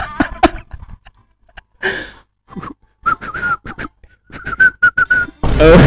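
A series of short, high whistled notes, some sliding, broken by small clicks and breaths, ending in a burst of loud noise.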